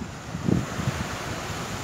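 Surf and steady wind noise at Uzunyalı beach in Marmaris, where kiteboarders ride, with a soft wave swell rising briefly then settling into an even, continuous wash.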